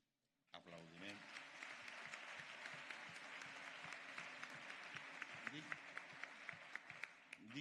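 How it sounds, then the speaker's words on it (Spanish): Applause breaks out at a national trade union congress, a sustained wave of many hands clapping in a large hall, with some sharper individual claps near the end and no voices clearly standing out. "Aplaudiment."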